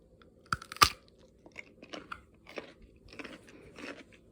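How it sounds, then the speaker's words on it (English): Crisp crunches as a fresh General Lee hybrid cucumber is bitten and chewed: a sharp loud first bite followed by a series of smaller wet, crackling chews, close up and alone without talk. "Really, the point of this, I want you to hear this crunch."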